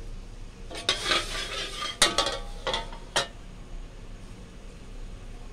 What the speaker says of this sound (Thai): ตั้งกระทะแล้วเอากะทิใส่ลงไปค่ะ